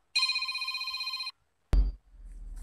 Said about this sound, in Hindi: पार्टनर का फोन।